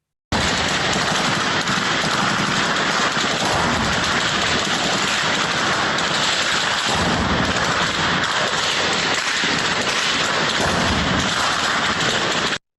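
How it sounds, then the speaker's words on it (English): Shelling of a hospital in Ukraine comes through as a dense, continuous barrage of rapid bangs and crackling gunfire, loud and harsh from start to finish with no pauses. "This is a shelling from last night of a hospital in Ukraine."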